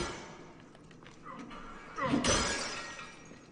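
Objects smashed in the video game Assassin's Creed Origins, a burst of breaking, shattering crashes rising about two seconds in, fairly quiet and blended with game ambience and soft talk.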